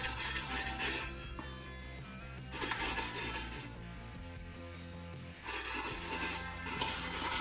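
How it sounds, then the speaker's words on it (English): A car transmission pan being scrubbed: repeated rough brushing rasps in bursts with short pauses between strokes, close and moderately quiet, with no talking. "we're gonna give our transmission pan a good little scrubbing"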